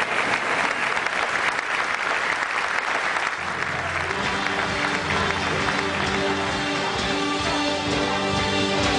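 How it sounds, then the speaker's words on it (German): Dense applause from a circus audience fills the whole stretch, a loud, steady wash of clapping that thickens partway through as more of the crowd joins in. "Applaus statt Medaillen."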